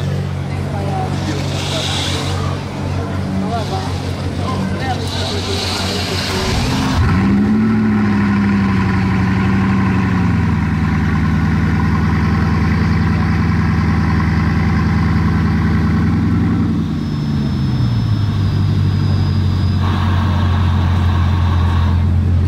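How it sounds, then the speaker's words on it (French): Bugatti Chiron supercar engine idling with a deep drone, then revving up and holding a loud rising tone as it drives off, close and powerful, with people talking over it. "Ah mais la Chiron elle va partir"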